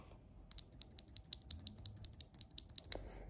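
Typing on a custom mechanical keyboard with non-lubed switches, about twenty crisp, clicky keystrokes in a quick, fairly steady rhythm, close and alone in a quiet room.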